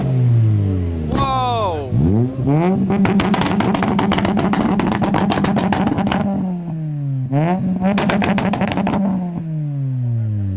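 Modified cars leaving a car meet rev hard and backfire, with sharp rapid crackles and pops over rising and falling engine roars, loud and close, while a voice briefly exclaims.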